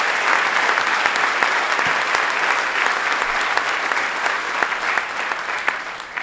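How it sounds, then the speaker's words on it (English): Dense, steady audience applause fills the room at Governor Cuomo's SolarCity GigaFactory announcement at RiverBend, clapping continuously at even loudness with no pauses. "let's give Mario Cuomo a big round of applause today."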